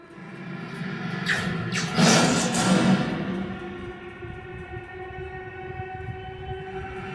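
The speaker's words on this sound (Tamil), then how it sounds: "லாங்கில் வர்ற வண்டியோட சவுண்டு மட்டும் காட்டுது" A distant vehicle, resembling a train, passes in a Dolby and DTS surround test track, its low rumble swelling to a peak at about two seconds, then settling into a steady, fainter roll with faint sustained tones and no voices.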